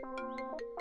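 A mobile phone ringtone plays a quick, bright electronic melody of several short rising and falling tones, loud and close, with no other sound.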